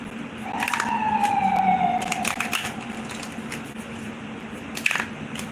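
A distant siren wails, its tone sliding downward, amid scattered clatter and crunching noises in a noisy outdoor setting.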